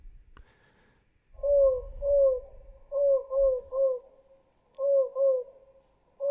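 An insect call slowed to one-eighth speed turns into low, owl-like hooting pulses, each sliding downward in pitch, coming in clear groups of two or three with quiet gaps between them.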